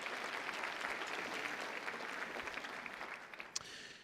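A conference audience gives a round of applause, dense continuous clapping from many people heard at a moderate distance, fading slightly toward the end with one sharper clap near the close.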